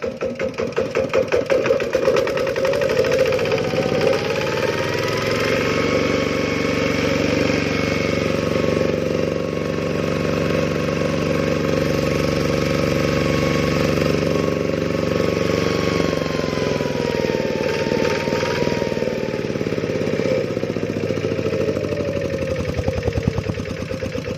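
A small 9-horsepower Kubota diesel tractor engine runs steadily and loudly up close for the whole stretch, a constant low chugging drone with a faint pitch rise and fall midway.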